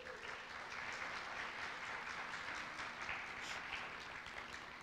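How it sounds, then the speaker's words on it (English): Audience applause fills a hall after a high school winter band concert, a steady dense wash of clapping from a large crowd, moderately distant and sustained throughout with no break. "Let's give one more round of applause to our amazing performers."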